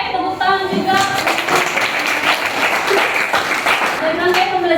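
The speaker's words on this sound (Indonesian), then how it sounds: "Oke, tepuk tangan juga." A classroom group gives a round of applause, a steady wash of clapping with voices talking over it.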